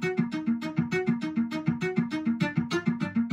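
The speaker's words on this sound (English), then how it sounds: "it's basically this super short spiccato cello that I've never even heard before. It's so short, it almost sounds like it's ticking" Very short spiccato solo cello notes in a fast, steady pulse, each stroke so clipped it sounds almost like ticking, bright and close, repeating evenly with no voices.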